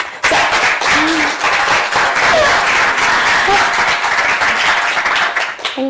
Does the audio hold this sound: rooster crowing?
no